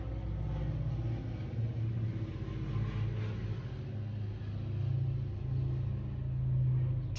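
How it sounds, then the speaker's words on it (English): A loud, steady low rumble of a passing train fills the whole stretch, swelling slightly toward the end, with no talking. "Oh, and that's a train."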